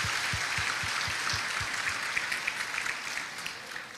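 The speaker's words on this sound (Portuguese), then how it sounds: "Vamos até agradecer a Jesus pelo pastor Ivanildo com uma forte salva de palmas" Church congregation applauding steadily, a dense wash of hand claps filling the room at moderate loudness, with faint rhythmic low thumps beneath in the first half.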